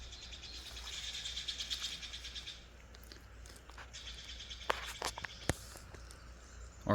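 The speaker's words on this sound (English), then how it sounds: "Birds are going crazy too." Birds chirp and call outdoors in rapid, fairly faint bursts, mixed with a few sharp clicks and footstep-like crunches. No one speaks.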